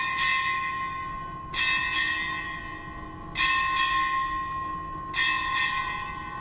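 A ship's bell rings at a U.S. Indo-Pacific Command change of command ceremony, three clear, resonant strikes heard in this stretch, each ringing out and decaying before the next, with no talking.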